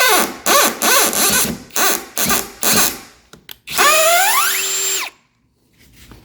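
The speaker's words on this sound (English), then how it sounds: "Let's drill that out a little bit." A power drill drives a screw into a door strike plate in short repeated bursts, then one longer whining run that winds down, followed by quiet.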